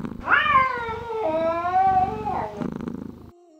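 A cat lets out a long, drawn-out meow that rises, wavers and then slides down, loud and close, followed by a shorter, fainter trailing cry before quiet.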